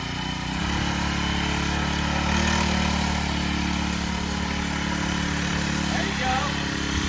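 A small mini bike engine runs steadily and loudly as a child rides it, a constant droning hum with little change in pitch, while people talk faintly in the background.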